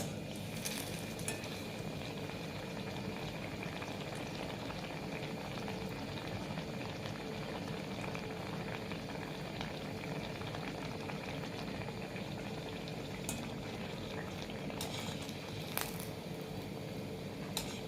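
Pakuan, a fried snack of flour and semolina dough, frying in hot oil, a faint, even bubbling sizzle that carries on steadily without a break and with no voices.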